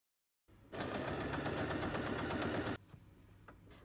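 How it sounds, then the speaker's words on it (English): A sewing machine stitches the pinned edge of a fabric knitting needle case in one fast, even burst of close mechanical chatter lasting about two seconds, then stops, leaving faint handling noise. "and sew the pinned area."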